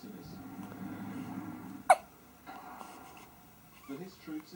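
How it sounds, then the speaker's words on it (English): A baby gives a single sharp, close hiccup, with a low murmur of background speech running underneath. "Have you got hiccups?"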